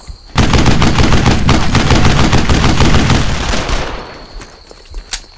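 Battle gunfire in the World War II shooter Brothers in Arms: Earned in Blood, dense rapid machine-gun and rifle bursts, loud and close, rattling continuously before thinning out into a few scattered shots near the end.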